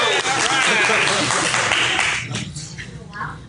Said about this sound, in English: You guys can clap.